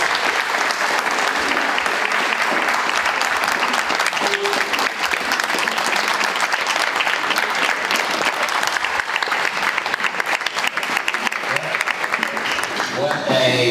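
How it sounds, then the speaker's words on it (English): A banquet audience at a scholarship dinner gives a big round of applause for standing children, with sustained, loud, dense clapping that lasts the whole stretch and scattered cheers and voices mixed in. "Let's have all the kids stand up and give them a big round of applause, please."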